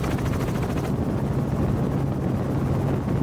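A helicopter flies over Maui, its rotor chop a loud continuous throb up close with steady wind noise and no pauses.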